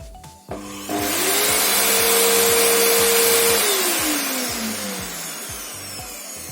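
An LG 1800W vacuum cleaner, under repair for a power fault, whirs up quickly to a loud steady roar with a rising motor whine, then slowly winds down, with a rhythmic ticking beneath.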